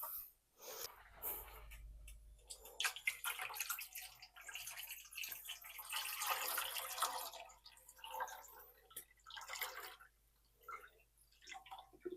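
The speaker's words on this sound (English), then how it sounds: "So let's add the water." Water poured into a container for dyeing in a few uneven bursts, splashing and trickling close by, with quiet pauses between pours.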